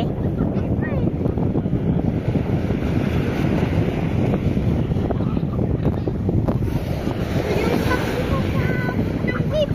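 Ocean waves washing onto a beach at sunset, a steady broad roar with heavy wind buffeting the microphone and faint voices underneath.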